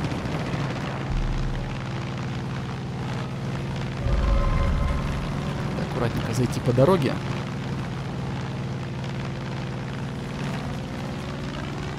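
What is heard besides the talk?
airplane flying in video game Far Cry 5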